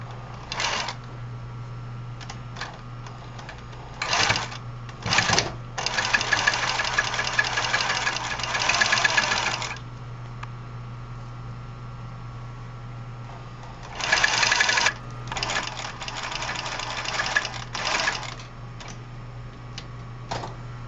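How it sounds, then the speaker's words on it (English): A sewing machine stitches fabric for an oval bottom in bursts of rapid mechanical chatter, short ones at first and then two longer runs, with a steady motor hum beneath. "I'm going to sew this."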